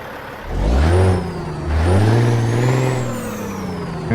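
A heavy Caterpillar diesel truck engine in American Truck Simulator, heard from outside, cranks and starts, revving up twice with rising whine before settling into a steady, loud idle with a high turbo whistle.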